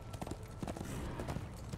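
Horse hooves clip-clopping in a stable in the video game Darksiders 2, a steady run of close, moderately loud hoofbeats over a low ambient hum.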